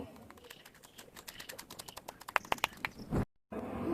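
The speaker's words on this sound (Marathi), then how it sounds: "कोथिंबीर स्वच्छ धुवून घेतली आहे आता ती बारीक कापून घेऊया" Freshly washed coriander is chopped finely with a knife in a home kitchen, giving rapid, light, evenly spaced taps on a board that are faint and close, ending after a brief pause.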